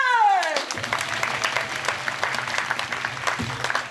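A crowd at a Bal Zanimo festival show breaks into sustained clapping, steady and moderately loud, following a falling high-pitched tone at the start.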